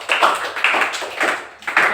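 A classroom group claps in short rhythmic bursts, about one burst every half second, fairly close and steady, for students applauding the last group to present.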